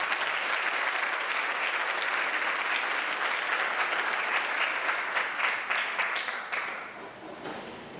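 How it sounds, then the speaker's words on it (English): Sustained applause from an audience at a school athletic awards night, steady dense clapping filling the room before tapering off near the end. "Please give the football all-district team a round of applause."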